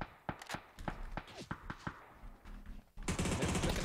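FAMAS assault rifle fire in the PUBG battle royale game, a run of sharp, spaced shots followed by a dense, loud sustained burst at the end, no talking.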